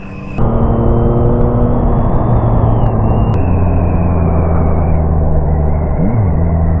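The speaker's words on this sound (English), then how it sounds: "3rd gear to 6th gear upshift" A 2023 Yamaha MT-09 SP motorcycle engine shifting up from 3rd to 6th gear: a loud, steady, close drone that drops in pitch at each quick gear change, with constant wind rush.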